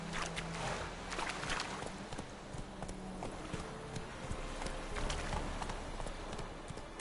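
Hooves of the horse Roach clopping steadily along in The Witcher 3 game, a continuous walking rhythm with a busy ambient backdrop and no talk.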